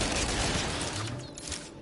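An artillery weapon firing in No Man's Sky, giving a dense, crackling burst of blasts that fills the short moment at steady loudness, with no talk.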